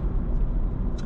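A car drives through the streets of Reykjavik and Kopavogur, heard from inside as a steady, loud low road and engine rumble with a faint higher hiss near the end.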